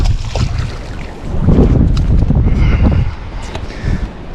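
Strong gusting wind buffets the microphone on a fishing boat, a loud rumbling roar that swells and eases across a few seconds, with no talk over it.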